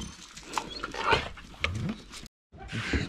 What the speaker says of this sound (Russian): Что они там гавкаете, а?